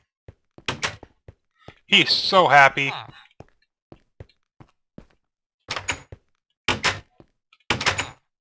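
Wooden doors on villager houses in the Minecraft mod pack PrinnyCraft, several short dull thunks opening and closing in sparse bursts, with someone talking over a stretch in the middle.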